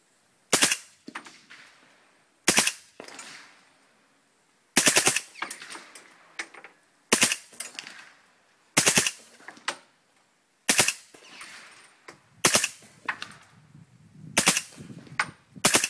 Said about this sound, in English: we're out here in the woods shooting a little 300 blackout suppressed subsonic